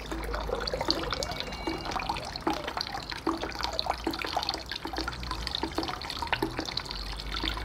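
Copper sulfate solution being poured and stirred into water for Bordeaux mixture, a soft continuous sloshing and trickling with faint drips, close but quiet.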